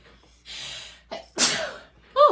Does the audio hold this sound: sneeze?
yes